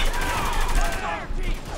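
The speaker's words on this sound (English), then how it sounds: "I can still hear somebody shooting." Gunfire in the video game Spec Ops: The Line, a loud continuous crackle of rapid shots with voices talking over it, dense and close throughout the brief moment.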